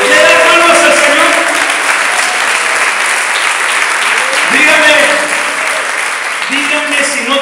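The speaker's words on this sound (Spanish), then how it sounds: "¿Le quiere dar palmas al Señor?" Church congregation clapping hands in praise to the Lord, a dense, loud, continuous wash of claps with voices and singing mixed in throughout.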